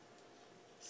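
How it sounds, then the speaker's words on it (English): Scissors cut into a styrofoam hive in one quick, crisp snip near the end, after a second of faint room hush. "scissors,"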